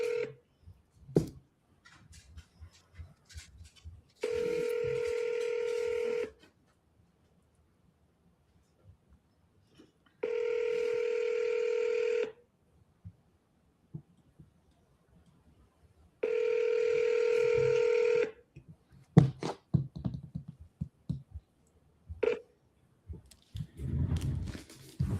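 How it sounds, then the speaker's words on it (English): Three separate bursts of a telephone ringback tone, each about two seconds long with steady pauses between them, come through a phone line as an outgoing call is placed. Soft clicks and handling noise fill the gaps. "you got to double dial. 3 rings, hang up, call again."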